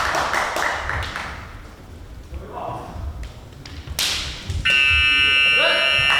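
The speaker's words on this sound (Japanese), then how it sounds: "ここでブザーが鳴りました。" A loud electronic buzzer blares near the end of a corporate-league kendo team match, after sharp strikes and crowd noise, with commentators talking over the action.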